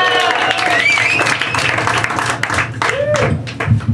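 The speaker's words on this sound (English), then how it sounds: "applause for Sean McCarthy!" Audience applause and scattered whoops for comedian Sean McCarthy at a stand-up set, a dense, steady wash of clapping and crowd noise with voices mixed in throughout.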